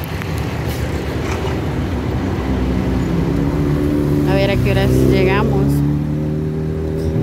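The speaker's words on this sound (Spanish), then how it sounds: "Pero ahí mira el tráfico." Road traffic with cars and buses on the way to San Francisco El Alto near Xela, a steady engine rumble throughout with a vehicle revving up partway, under a voice speaking Spanish.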